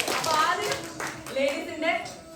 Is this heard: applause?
yes